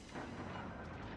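Naval ship secondary guns fire in World of Warships Legends on PS5, a continuous heavy rumbling barrage of booms with no clear gaps, loud and close.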